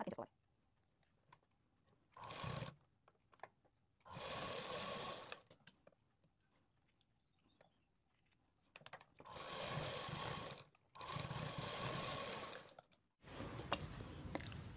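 A sewing machine stitches the shoulder seam of a kurti in several short, buzzing runs of one to two seconds, separated by quiet pauses.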